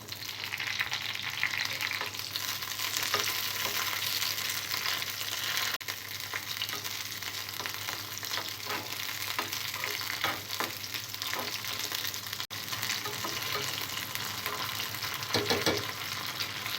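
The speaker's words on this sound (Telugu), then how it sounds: "ఆయిల్ వేడైన తర్వాత పచ్చిమిరపకాయలను ఫ్రై చేసుకోవాలి." Green chillies frying in hot oil in a pan give a dense, steady, close-up sizzle that runs unbroken throughout, with faint stirring scrapes.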